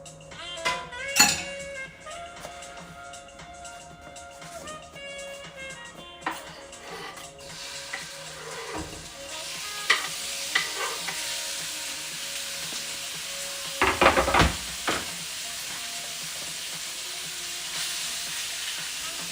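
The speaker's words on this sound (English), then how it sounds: "You hear that sizzle?" Chicken sizzles and fries loudly in a hot pan for ginger garlic chicken rice, a dense continuous hiss with clattering stirring knocks and scrapes, over faint background music.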